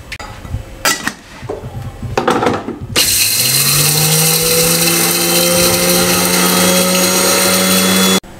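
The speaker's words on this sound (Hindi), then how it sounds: "मैं इन सब को पाउडर फार्म में लेके आता हूँ," An electric grinder whirs up and runs at a loud, steady pitch while pulverising roasted chickpeas into powder, preceded by a few clunks and rattles as the jar is handled.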